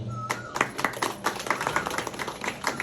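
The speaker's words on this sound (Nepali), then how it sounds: "सहसचिवको प्रस्तावित नाम हामीले ताली बजाएर पारित गरिसकेका छौँ" An audience claps at a meeting to approve a proposed name, a quick run of sharp, fairly close hand claps over about three seconds, mixed with a brief tone and faint murmuring.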